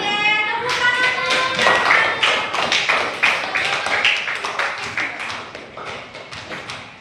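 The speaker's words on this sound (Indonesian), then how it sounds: "Oke, tepuk tangan." A class claps hands together in a quick, steady rhythm of sharp taps that lasts several seconds, with a brief voice at the start.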